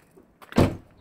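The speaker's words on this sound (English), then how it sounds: "So it's got dual auto doors, dual remote doors." A power sliding door on a 2006 Toyota Estima G Edition 2.4i seven-seater minivan, remote-operated, gives a single muffled thunk and brief rumble up close, preceded by faint motor whir, with no talking.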